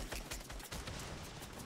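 Rapid gunfire in the Fortnite video game, a quick burst of shots crackling over under two seconds, close but quiet, with no talking.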